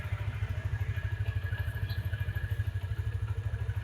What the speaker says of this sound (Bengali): আমরা গাড়ির সাউন্ড কন্ডিশনটা একটু শোনাচ্ছি